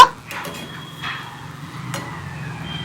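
A spoon stirs green banana curry in a pot after hot water is added, a few scraping clinks and sloshes against the metal, close and brief with no talk.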